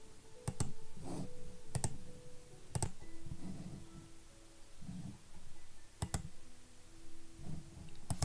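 Computer mouse clicks in medical software, sharp isolated clicks spaced a second or two apart, close and quiet, with faint low background murmur between them.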